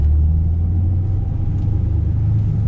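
A Mustang with a steering angle mod drives along with a loud, steady low engine rumble heard from inside the car. The drone holds even with no distinct revs.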